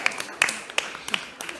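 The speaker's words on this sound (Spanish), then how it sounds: "Un aplauso." Scattered hand claps from a conference audience at an innovation forum panel, a few sharp separate claps spaced about a third of a second apart, thin and sparse rather than a full ovation.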